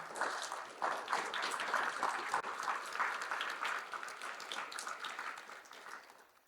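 Audience applause for Ukraine's defenders at a national human rights forum for people with disabilities, a dense, even wash of clapping from a sizable crowd that holds steady and then tapers off.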